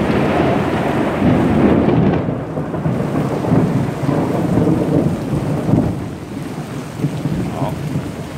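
Heavy rain pours down on a Saigon street with rumbling thunder rolling through, a dense, loud, continuous roar of rainfall with deeper swells of thunder underneath.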